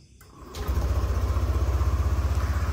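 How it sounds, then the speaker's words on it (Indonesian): A Yamaha NMAX Neo 2024 scooter starting up: a short starter whir, then the engine catches and settles into a steady, pulsing idle close by, loud and rhythmic with no speech over it. "Ketika kontak di on, kita starter motornya."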